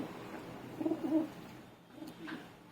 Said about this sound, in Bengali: এটি একটি জ্যাক পায়রা, মুর্শিদাবাদ গিরিবাজ বেলডাঙ্গা হাটের পায়রা